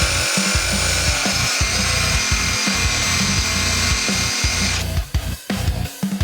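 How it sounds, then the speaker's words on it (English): A combination drill and impact driver works on a tight bolt on a Renault Magnum truck, loud repeated whirring and hammering bursts in an uneven rhythm, close up, cutting out near the end. "I know something that's a drill and also an impact."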